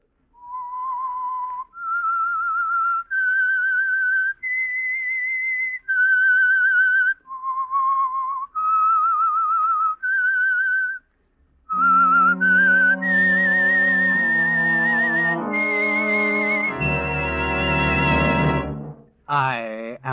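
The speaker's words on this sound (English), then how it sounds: "That whistle is your signal for the Signal Oil program" A lone whistler carries the eerie theme of The Whistler radio program, clear sustained notes stepping up and down in a slow melody, then joined by a swelling orchestral chord that builds loudly before a brief final whistle.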